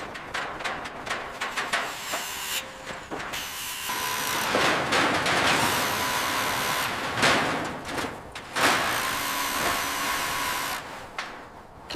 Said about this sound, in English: Vacuum up that pile by the machine.